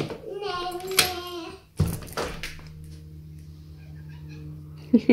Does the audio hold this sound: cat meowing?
yes